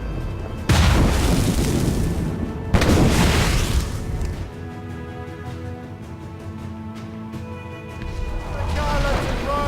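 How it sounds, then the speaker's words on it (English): Mortar fire in the Assassin's Creed Rogue video game, with two heavy booming blasts near the start followed by a rumbling naval battle din, and voices shouting over it. "Mortar stand!"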